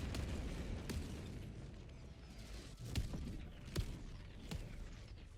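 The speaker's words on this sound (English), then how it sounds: "nothing a simple 120mm orbital barrage won't solve" A 120mm orbital barrage pounds the ground in the Helldivers 2 video game. Several muffled, distant explosions land one after another at uneven intervals over a dense, rumbling battle ambience.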